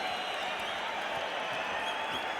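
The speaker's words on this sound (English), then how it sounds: "And now the crowd roaring even more" Boxing arena crowd at a Mike Tyson versus Steve Zouski fight, a sustained dense roar of cheering and applause that stays steady and loud with no pauses.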